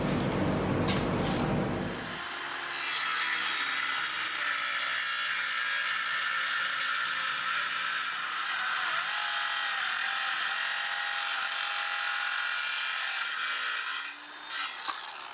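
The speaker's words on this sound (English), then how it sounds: "We set up the saw at the other end, other guide at the other end, and we'll make that cut too." A power saw rips through wood for a furniture console build, a loud sustained high whine of the blade biting the board for about eleven seconds, with brief spin-up and wind-down clatter at each end, close-miked and without talk.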